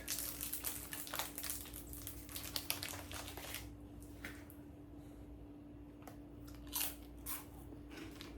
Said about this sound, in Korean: 아 일단 좀 먹겠습니다